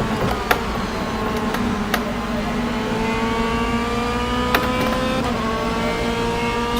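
DTM 2018 race cars at Silverstone in rFactor 2, a loud continuous pack of engines rising in pitch together as they bunch into the first corner, with sharp clicks from gear changes.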